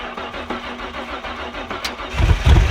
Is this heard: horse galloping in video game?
no